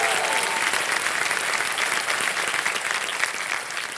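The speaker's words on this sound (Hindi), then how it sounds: "तालियां बज जाए इनके लिए एक बार फिर" Studio audience on the KBC India quiz show breaks into steady, dense applause that stays loud and even throughout, with no voices over it.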